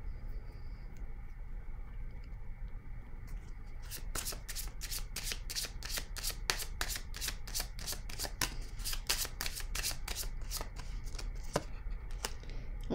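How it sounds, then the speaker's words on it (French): A deck of oracle cards is shuffled by hand ahead of a draw, about nine seconds of quick, crisp, evenly spaced riffling snaps close to the microphone over a steady low room hum. "je vais piger une carte ici pour le mot coupable"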